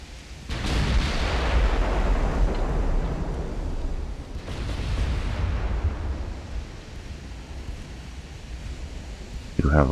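Naval gunfire exchange between dreadnought battleships in the Ultimate Admiral: Dreadnoughts video game: two heavy booming salvos roughly four seconds apart, each with a long rumbling decay, loud and unaccompanied by talk.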